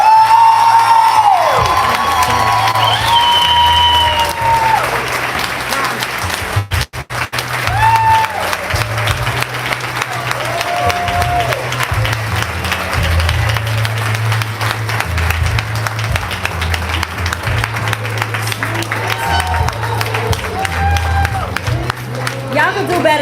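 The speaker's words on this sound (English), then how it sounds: "Y'all can do better than that. Clap it up." A live spoken-word audience in Chicago breaks into sustained applause and cheering, dense clapping with whoops and shouts continuing steadily throughout, with a voice speaking over the crowd.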